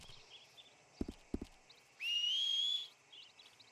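In a western video game, two crisp hoof clops sound close by, followed by a sharp rising whistle held for almost a second as a rider calls a horse, with faint birdsong in the background.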